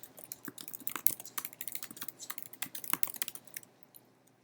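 Someone types a short passage on a computer keyboard: quick, quiet, close-up key clicks in an uneven rhythm that taper off at the end, with no talking.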